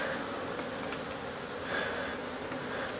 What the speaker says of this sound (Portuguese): Eu vou pegando a abelha com a concha.